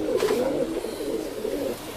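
Roller pigeons cooing inside a breeding loft, a continuous close, fairly loud throaty coo with warbling pulses, no talking.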